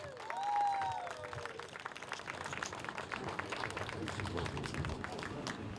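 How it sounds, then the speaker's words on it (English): Audience clapping at a park and playground ribbon-cutting ceremony, fairly faint and spread out across an outdoor crowd, with a brief whistle or squeak near the start and scattered voices underneath. "Let's give a round of applause for that"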